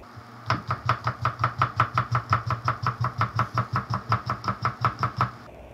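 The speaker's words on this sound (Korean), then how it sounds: "그냥 이렇게 동그랗게 썰어 줄게요." A knife chops rapidly and evenly on a cutting board, slicing the white part of green onion into rounds, about two dozen crisp taps in a steady rhythm, close and clear.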